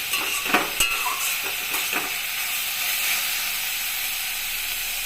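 A spoon stirs food in a frying pan over a raised gas flame, several scraping clatters in the first two seconds over a steady close sizzle that then continues evenly on its own, with no talking.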